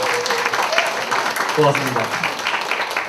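Scattered audience applause at a book concert, moderately close and brief, with a voice speaking over the clapping.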